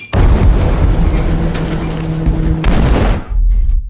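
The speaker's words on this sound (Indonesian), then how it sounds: "Ceceng dengan segera meledakkan bom yang dia pasang di kapal patroli polisi yang dibawanya" A bomb planted on a police patrol boat explodes in a film scene: a loud, sustained roaring blast that rumbles for about three seconds before cutting off abruptly.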